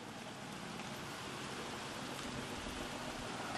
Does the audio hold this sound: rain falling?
yes